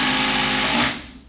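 A RYOBI brushless HP compact power tool runs at high speed in a woodworking shop building cornhole boards, a loud, close, buzzing whine that winds down within about a second.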